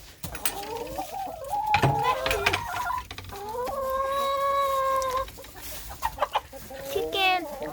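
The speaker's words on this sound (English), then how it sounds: "Chicken." A chicken that is losing its feathers clucks and calls loudly nearby in drawn-out, warbling bursts separated by short pauses.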